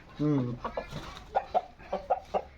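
An eastern-breed fighting rooster clucks up close, opening with a loud drawn-out call followed by a run of short, spaced clucks.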